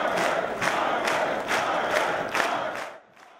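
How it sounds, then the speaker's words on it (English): A crowd at a Conservative political rally with Prime Minister Stephen Harper in Mississauga chants and cheers in a loud rhythmic pattern of repeated shouts, then drops away abruptly at the end. "The crowd at the Conservative rally today were very vocal about where their support lies."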